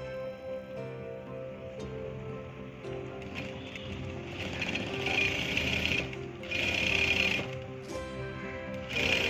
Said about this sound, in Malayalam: ഈ ഒരു അരികിലൂടെ സ്റ്റിച്ച് ചെയ്യാം.